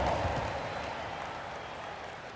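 Arena crowd applause during a basketball game, a broad steady wash of clapping that starts fullest and eases slightly, sustained without any talk.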